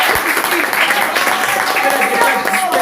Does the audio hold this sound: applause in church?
yes